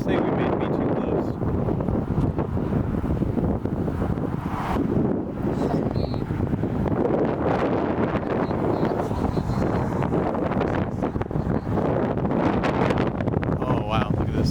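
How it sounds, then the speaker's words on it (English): Strong, steady wind roars continuously near a tornado in the Texas Panhandle, loud, buffeting gusts across the whole stretch, with voices speaking over it. "look at this strong wind, strong"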